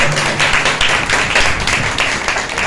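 Loud applause from a church congregation during a Palm Sunday sermon, dense continuous clapping filling the space, steady and close.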